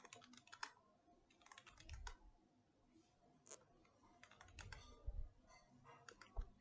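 Keystrokes on a computer keyboard while setting up server software on Ubuntu. Irregular bursts of quiet clicky taps come with short pauses between them, faint and close.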